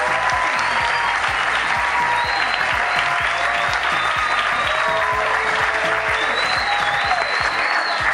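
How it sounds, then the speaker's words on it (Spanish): A crowd at a school report event gives sustained, loud, even applause, many hands clapping continuously throughout with a faint whistle-like tone above. "nuevamente le pido un aplauso"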